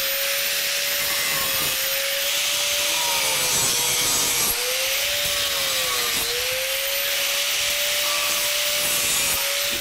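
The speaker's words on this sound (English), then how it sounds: "get my grinder, get rid of my tabs, modify the box" Angle grinder cutting tabs off an electrical box, a loud continuous abrasive whine with a steady tone that dips slightly a few times as it bites the metal, close and with no talk.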